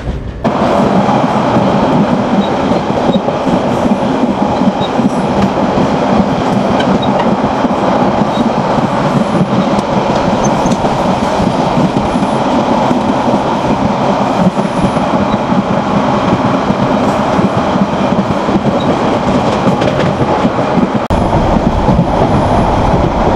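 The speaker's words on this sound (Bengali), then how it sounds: "আমাদের ট্রেন এই রামুতে 2 মিনিটের যাত্রা বিরতি দিয়ে কক্সবাজারের উদ্দেশ্যে দুর্দান্ত গতিতে ছুটে চলছে" A Saikat Express passenger train speeds toward Cox's Bazar, heard from on board as a loud, continuous rumble with rhythmic wheel clatter and faint squeals for the whole stretch.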